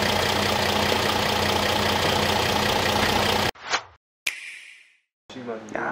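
Diesel V6 of a Mercedes-Benz CLS 350d 4Matic idling during repair work, a steady even rumble close by that cuts off abruptly, followed by brief scattered sounds and silent gaps.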